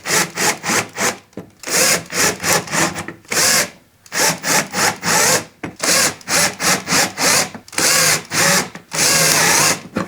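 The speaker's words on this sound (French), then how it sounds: "venir visser la jardinière pour que tout reste en place." Power drill driving screws to fix a wooden planter box in place on a garden porch, loud close bursts of whirring and grinding in quick repeated pulses with short pauses between.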